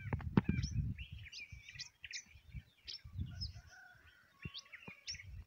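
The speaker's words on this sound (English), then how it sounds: "As you can see, the sounds of the birds." Several birds sing and chirp with bright, short repeated calls in a quiet natural spot in Murang'a, while low, close handling noises and footsteps come and go underneath.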